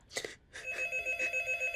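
A telephone rings in a Turkish village home, with two close bursts of the bell, a short gap, then a longer continuous ring carrying a steady tone.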